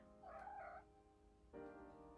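An indoor house cat gives two short, quiet meows about a second apart, each distinct against a hushed room with no speech.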